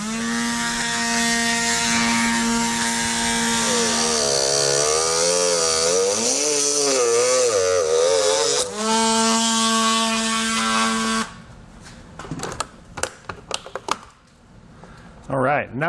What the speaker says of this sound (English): We're going to use a cutoff wheel to do that.